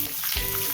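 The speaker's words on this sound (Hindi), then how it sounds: "और इसी में डाल देते हैं प्याज।" Chopped onion dropping into hot oil in a pan and frying with a steady broadband sizzle, briefly stirred, close and fairly loud with no talking, for an eggplant (baingan) dish.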